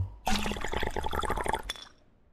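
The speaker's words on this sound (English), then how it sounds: "Let's drink the water." Drinking water in the medieval survival game Crestfallen: a sharp burst of gulping, sloshing liquid runs for about a second and a half, loud and close, with no talk, then cuts off and fades.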